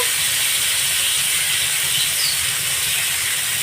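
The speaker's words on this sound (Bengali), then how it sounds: "আলুটাকে ভালো করে আমি একটু ভেজে নেব" Potatoes frying in a pan for a potato and parshe fish curry, giving a steady, close, even sizzle and hiss that holds at one level throughout with no pauses and no voices.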